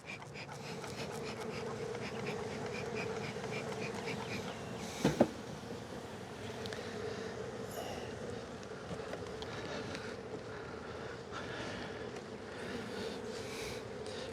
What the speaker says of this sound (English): All these bees are staring at me.